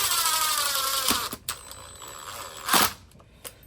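A power driver whines as screws are driven into the wooden lid of a homemade carpenter bee trap, with a couple of short bursts and sharp clicks between steady motor runs, close and fairly loud.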